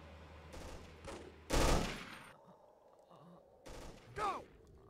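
Gunfire from the Emergency 4 video game, in a U.S. Army mod, sounds as soldiers are shot: a loud burst of shots near the middle and further sharp bursts near the end, with quieter game noise between them.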